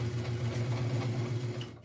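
A sewing machine stitches a seam in a steady, fast, even whirr of close mechanical hum, running continuously for about two seconds before stopping abruptly.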